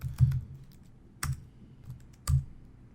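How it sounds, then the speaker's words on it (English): Keys on a computer keyboard are tapped one by one as a password is entered, three distinct close clicks spaced about a second apart in a quiet room, with no talking. "Type in my password."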